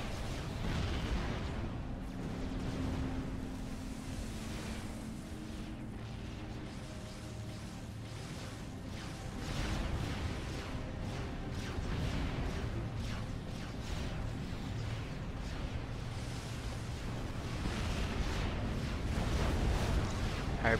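Strategic bomber strikes in Supreme Commander: Forged Alliance Forever hit anti-air defenses in a 1v1 ladder match, a steady low rumble of distant explosions and booms that rolls on for the whole stretch at moderate volume.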